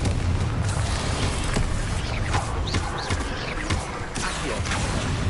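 The Confringo fire spell in the Hogwarts Legacy video game bursts with loud, dense blasts and booming crackles, with sharp impacts recurring over a sustained roar of combat effects.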